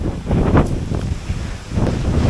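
Gusty, dry wind buffets the microphone with low rumbling surges, rising and falling over a couple of seconds, at a forest fire on the Kapıdağ Peninsula near Erdek.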